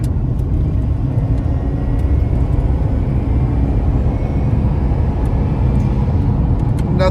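An old American car with working air conditioning and power steering drives along, its engine and road noise a steady low rumble heard from inside the cabin, with no talk.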